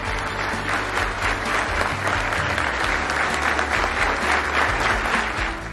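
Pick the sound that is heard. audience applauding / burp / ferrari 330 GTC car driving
audience applauding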